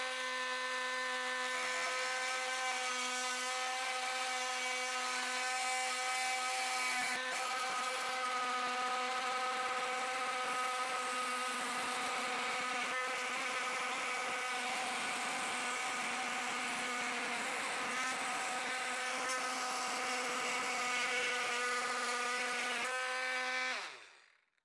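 FERM 20V multi-tool fitted with a metal blade, cutting metal: a loud, continuous high-pitched buzzing whine with strong harmonics, heard alone, dipping briefly a few times before cutting off at the end.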